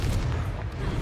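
A Confringo spell blast in a video game lands as a short, heavy, booming burst with a deep low rumble, loud and close throughout the brief moment.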